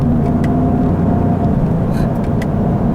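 A 2018 Lincoln Navigator Black Label's engine hums steadily from inside the cabin as it is shifted manually with paddle shifters, a continuous low drone with slight shifts in pitch and no clear separate shift clunks.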